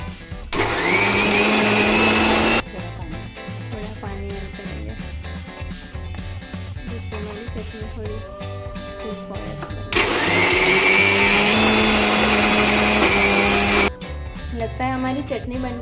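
Mixer grinder blending coriander into green chutney: two loud, steady whirring runs of a couple of seconds and about four seconds, separated by a stretch of clattering and a voice speaking between them.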